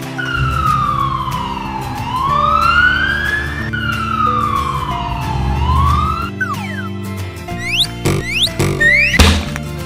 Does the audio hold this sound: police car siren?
yes